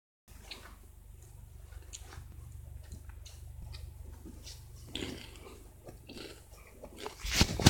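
A chip is chewed close to the mic, with faint soft crunches over a steady low hum, growing louder and sharper in the last moment.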